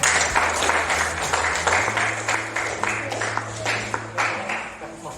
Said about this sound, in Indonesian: Kasih tepuk tangan untuk Aprian